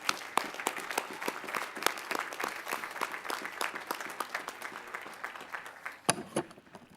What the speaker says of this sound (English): Let's give these three graduates another round of applause.